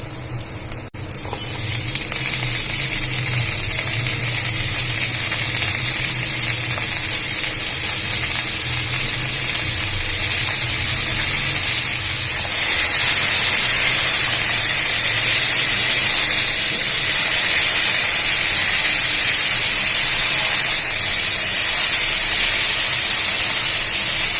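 Bitter gourd and potato fry loudly in a pan with onion, chili and garlic, a steady, dense sizzle and hiss that runs the whole time and grows a little brighter partway through.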